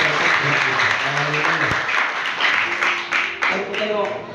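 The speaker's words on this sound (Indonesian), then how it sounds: "Berikan tepuk tangan yang luar biasa." A church congregation gives enthusiastic applause during a worship service, a full wash of clapping with voices speaking and calling out over it.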